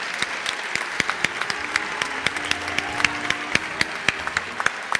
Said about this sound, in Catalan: Un fort aplaudiment per a tots ells i per a totes elles.